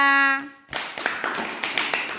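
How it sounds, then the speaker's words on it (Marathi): A group of schoolchildren clap their hands at a classroom game, giving a quick run of close, irregular claps that follows a brief sustained tone. "टाळ्या वाजवा चला"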